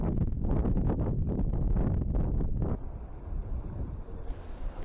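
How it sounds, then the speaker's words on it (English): Strong wind buffets the microphone at a jetty on the coast, loud gusty roaring rumble for nearly three seconds before easing to a lower steady rush. "The wind is really picking up, so you'll be hearing that in the background sometimes."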